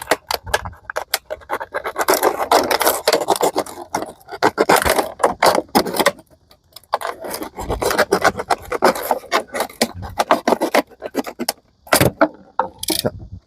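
A utility knife slices through a plastic container, cutting a section about 5 cm from the end, with steady rasping, scraping strokes in bursts separated by short pauses.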